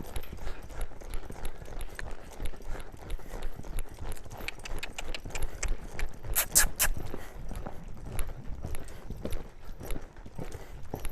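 Horse hooves cantering in steady rhythmic clip-clop beats, moderately near, covering ground under handling by a trainer, with light background rustle throughout.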